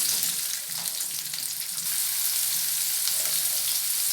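A chopped medium-size onion frying in oil with fennel seeds, making a steady, even sizzle with faint stirring underneath throughout.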